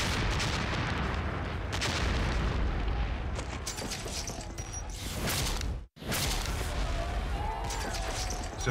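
Revolutionary War battle around New York in 1776, with heavy artillery gunfire and booms rumbling continuously, loud and dense, with a brief cut of silence midway.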